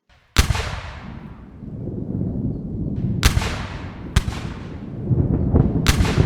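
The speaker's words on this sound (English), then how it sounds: "some 143 Confederate artillery pieces open up, firing on Cemetery Ridge." Booming Confederate artillery pieces fire on Cemetery Ridge at Gettysburg as a sound effect: four sharp, loud cannon blasts, each with a long rumbling decay, over a continuous low roar of distant gunfire.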